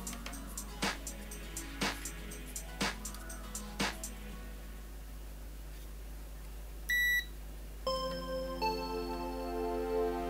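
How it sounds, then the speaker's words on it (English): Digital multimeter beeps during a continuity test on the blown fuse of a Philips DVP630 DVD player: several short, sharp beeps and ticks spaced about a second apart, then a brief tone and a longer steady beep, close and alone. "Now let's do the continuity test of the fuse."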